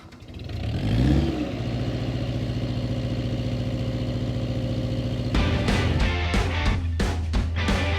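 A Nissan 300 mini digger's diesel engine revs up and then runs at a steady drone as it moves on its tracks, with clanking and squeaking of the tracks joining near the end.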